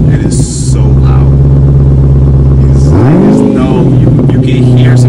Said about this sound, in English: The car is just so loud.